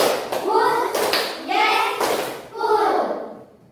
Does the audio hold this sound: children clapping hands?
yes